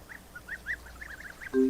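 Several short, nasal goose honks in a loose, irregular series, moderately close, followed by a brief lower buzzing tone at the end.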